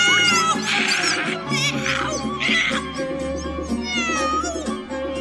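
A cat meowing loudly and repeatedly in drawn-out wailing cries, close and up front over a steady background of music.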